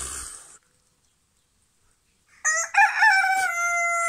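A rooster crows loudly and close by in a henhouse after a brief moment of quiet, its harmonic call rising and holding.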